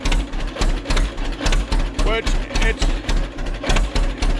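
A tractor engine with a straight pipe exhaust idles loud and close, chugging in a fast, even pulse of sharp exhaust barks while someone talks over it.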